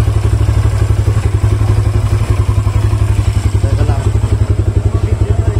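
Sigma 250 motorcycle with a touring camshaft, its engine idling loud and close with a steady pulsing throb and mechanical clatter, briefly revved while someone speaks over it.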